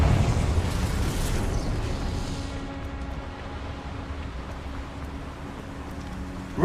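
A Confringo explosive spell goes off in Hogwarts Legacy with a heavy, booming burst that rumbles and slowly fades into a low, lingering drone.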